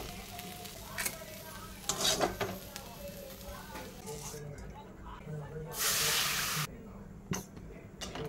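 Okra frying in a pan in a home kitchen gives a soft, continuous sizzle that swells into a loud hissing burst partway through, with someone talking over it.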